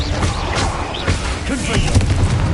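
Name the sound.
spell explosions in Hogwarts Legacy video game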